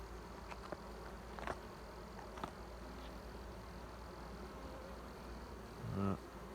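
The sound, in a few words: honeybees buzzing at an open hive in an apiary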